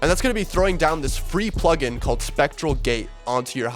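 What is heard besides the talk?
No everyday noise stands out behind the speech.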